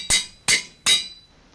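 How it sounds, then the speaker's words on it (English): Three sharp metallic hammer strikes from a Minecraft Feed The Beast modpack tool, evenly spaced about 0.4 seconds apart, each with a bright ringing clink that decays quickly, heard clearly with no talk. "So we've got our hammer"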